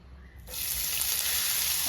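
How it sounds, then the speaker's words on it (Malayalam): Finely chopped ginger hits hot coconut oil for Kerala-style inji puli, setting off a sudden loud sizzle after a brief quiet moment, and the bright frying hiss holds steady to the end. "നമ്മുടെ എണ്ണ നന്നായിട്ട് ചൂടായി വന്നിട്ടുണ്ട് അതിലേക്ക് നമുക്ക് ദേ അരിഞ്ഞ് കൊത്തി അരിഞ്ഞെടുത്ത ഇഞ്ചി"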